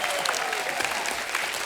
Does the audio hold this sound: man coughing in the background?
no